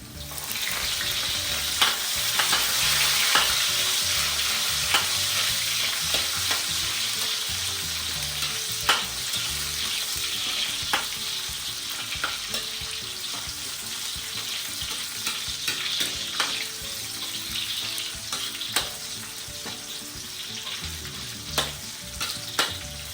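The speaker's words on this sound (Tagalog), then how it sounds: "Ito, magigisa na tayo ng bawang. Siyempre, sabay natin yung sibuyas." Garlic and onion sauté in a hot pan with a constant loud sizzle, broken by repeated sharp clicks and scrapes of a utensil stirring against the pan.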